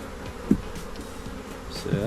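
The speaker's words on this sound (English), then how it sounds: "A whole lot of bees in the box." A dense crowd of honey bees hums steadily inside a swarm trap box, a close, continuous drone with a few brief knocks and louder buzzes over it.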